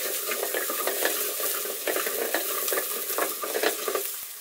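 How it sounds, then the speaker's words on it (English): Onion, garlic and spices cook over low heat for vegetarian chili, giving a soft, steady sizzle broken by frequent stirring scrapes and small clicks in the pot, close up with no speech. "So on fairly low heat, I'll be able to get the onion and the garlic and the spices nice and mulled together"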